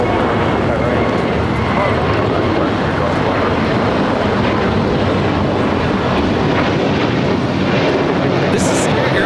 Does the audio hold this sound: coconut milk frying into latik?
no